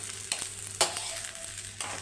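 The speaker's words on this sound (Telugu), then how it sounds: "మంచిగా కలుపుకుందాం." Spoon stirring palak rice with ghee in a hot pan: soft sizzling throughout with a few distinct scraping strokes against the metal, close and alone with no voices.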